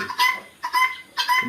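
Three short bursts of hen clucking in a row at a chicken farm, fairly close and clear, with brief quiet gaps between each call.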